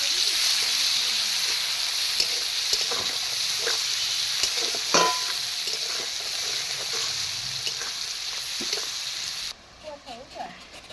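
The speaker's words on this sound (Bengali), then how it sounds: "মাছ ভাজার তেলেই আমি এই তরকারিটা তুলে দিচ্ছি। কাঁচা লঙ্কা আর পেঁয়াজ কুচোটা দিয়ে দিচ্ছি।" Vegetable curry with green chili and chopped onion sizzles and hisses in leftover fish-frying oil, stirred now and then with brief scrapes, and the sizzle drops away near the end.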